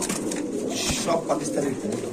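Pakistani pigeons coo in low, rolling bursts close by, mixed with a person talking over them.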